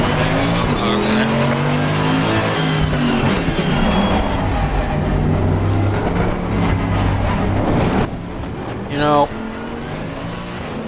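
Race car in Assetto Corsa Competizione at Monza spinning out after running its tires onto the grass under braking, with loud engine drone, a burst of tire squeal and skidding, and a voice talking over it.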